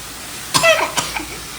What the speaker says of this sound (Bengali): সম্ভবত কাশি